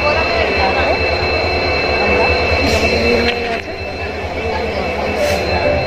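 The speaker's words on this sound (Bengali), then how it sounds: "one two eight seven two ইস্পাত এক্সপ্রেস টাইম ছিল রাউরকেলায় হচ্ছে 11:05, কিন্তু ট্রেন এসছে হচ্ছে 11:50-এ" Ispat Express passenger train 12872 arriving at Rourkela station, a loud continuous rumble with rhythmic wheel clatter and faint squeals, close by throughout.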